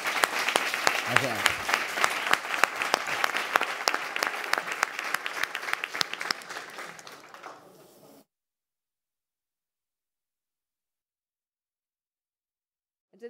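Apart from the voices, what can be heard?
audience applause at a conference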